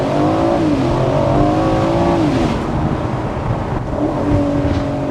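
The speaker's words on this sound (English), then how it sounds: "Yeah, the V8s. Like you just hear it." An Aston Martin Vantage V8 engine revs loudly nearby, pitch climbing and dipping through a few throttle blips, with a deep rumble beneath.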